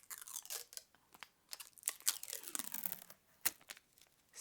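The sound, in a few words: plastic film ripped off a makeup palette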